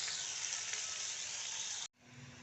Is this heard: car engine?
no